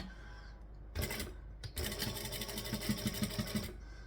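A home sewing machine runs a fast, even stitching burst close by, starting after a short pause, as a line of stitches is sewn right beside a garment facing during a sewing tutorial.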